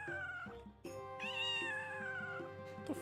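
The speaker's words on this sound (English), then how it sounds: "Oh, god damn, I thought that was my cat." A cat in the video game Daggerfall lets out a couple of drawn-out, close meows, one short and one long and wavering, with no talking over them.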